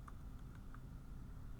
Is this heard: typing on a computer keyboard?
yes